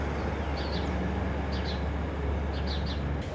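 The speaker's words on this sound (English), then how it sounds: "You can hear the house sparrows calling." House sparrows calling along a palm-lined spot in San Diego, short chirps in a few quick clusters sitting well above a loud, constant low rumble of traffic or machinery.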